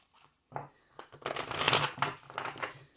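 A tarot deck is shuffled in quick riffling bursts, close and crisp, with a soft thump at the start and a few pauses between shuffles.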